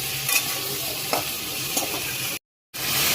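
Diced potatoes, tomatoes and onions fry in a pan with a steady close sizzle, while a spoon stirs them in a few scraping strokes. The sound cuts out briefly near the end and then comes back.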